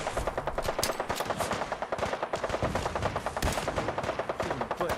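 Rapid bursts of automatic gunfire rattle in Fallout 4, dense repeated shots in quick rhythm with brief pauses, fairly loud throughout.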